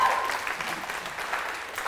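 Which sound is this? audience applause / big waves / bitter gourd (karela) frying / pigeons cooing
audience applause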